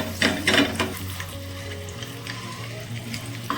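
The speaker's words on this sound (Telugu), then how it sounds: "ఈ మూడింటిని కూడా వీడియోలో చూపిస్తున్న విధంగా ఇలా తిప్పుతూ ఫ్రై చేసుకోండి" Ingredients and egg sizzle in a pan with turmeric while being stirred. A few scraping strokes come early, followed by a steady, close frying hiss.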